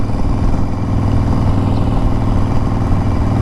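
A Harley-Davidson motorcycle engine runs close and loud, a steady low rumbling throb with a fast pulsing beat holding at an even level throughout, with no other sounds over it.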